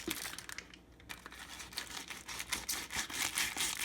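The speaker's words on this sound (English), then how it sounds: "So I'm going to use my knife here and cut the top of this bag." A knife slicing open the plastic bag of a corned beef roast, with close, continuous crinkling and tearing of the plastic for about four seconds.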